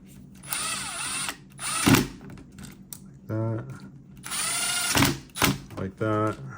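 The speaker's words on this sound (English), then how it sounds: "So let's put this screw on with this washer." Cordless power driver runs in several short bursts, whirring up and down as it drives a screw with a washer into an RC rock crawler's steering link, with quiet clicks and handling noises between bursts.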